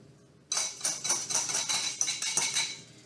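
Dry baking ingredients, including cinnamon and salt, are tipped from dishes into one bowl. The sound is a sudden run of close clinks and rattles against the bowl, with several small taps and scrapes, and no talk over it.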